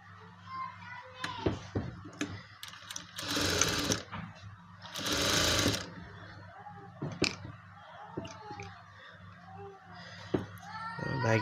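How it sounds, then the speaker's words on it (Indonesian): Sewing machine stitching along the edge of a trouser side pocket, a quiet close-up motor whirr in short bursts and two longer runs, separated by brief handling clicks. "Saya jahit di pinggir ini."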